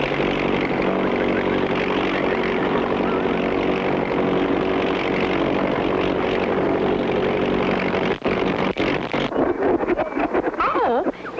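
A flying buggy's aircraft engine drones steadily and loudly, the buggy running low on gas, with a voice speaking over it and the engine sputtering and breaking up toward the end.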